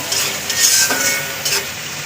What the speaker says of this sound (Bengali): এখানে ডিম ডিমটা দেওয়া হবে আসলে লাউয়ের মধ্যে